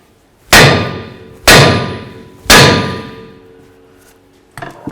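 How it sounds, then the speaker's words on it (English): Three hard metallic clangs ring out at an even pace as a small hammer strikes the steering knuckle of an 08-12 Jeep Liberty during front upper control arm replacement. Each blow decays with a ringing tail, and quieter clanks follow. "Now we're going to take our little hammer and give the knuckle a bonk."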